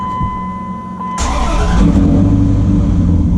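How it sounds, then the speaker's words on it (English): A truck engine with a single pipe splitting to chrome 3-inch exhaust tips starts up: a short cranking whir, then a sudden loud catch and a rising rev that settles into a deep, rumbling idle, heard close by. "That's what she sounds like with 3-inch exhaust tips."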